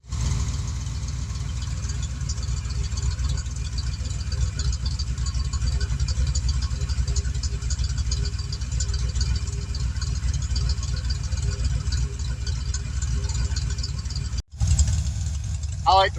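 Foxbody Mustang engine idling steadily up close, a continuous low rumble with a slight rattle for about fourteen seconds, then a brief cut and a short burst of voice over the running engine.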